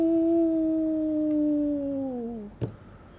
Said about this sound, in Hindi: बाहर से थोड़ी थोड़ी देर बाद किसी बेचारे आवारा कुत्ते की आवाज़ आ रही है